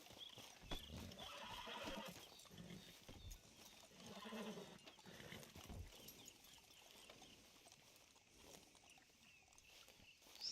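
Horse in Red Dead Redemption 2, faint whinnies and snorts with soft hoof clops over a steady outdoor game ambience, no talk.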